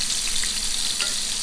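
Cheddar-stuffed meatballs fry in a pan over a high flame, giving a steady, dense sizzle with faint crackles, close and continuous with no talking.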